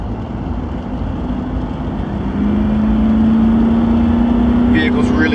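A 2016 Nissan Titan XD pickup with a Cummins diesel engine accelerates, its engine hum rising steadily in pitch over loud road and cabin rumble, heard from inside.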